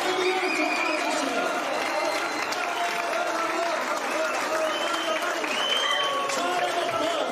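A large crowd applauds Dr. Kemal Güner at a rally, with dense, sustained clapping and mixed voices throughout.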